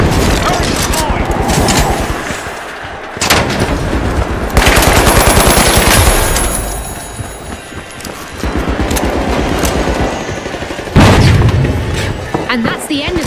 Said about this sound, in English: Turret deployed.